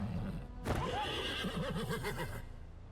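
A horse in the video game Wartales whinnies loudly and clearly, its wavering neigh standing alone after a soft hoof clop.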